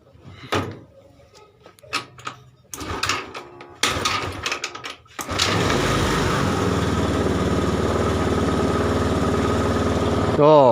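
A Honda Beat FI scooter is being worked on for a fault with its throttle position sensor. Clunks and knocks come first, then the engine starts and settles into a steady, close idle that runs to the end.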